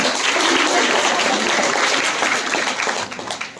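An audience in a Hindi-language paper flower-making class claps together, a dense burst of applause that holds steady and loud before thinning toward the end, with no talking over it.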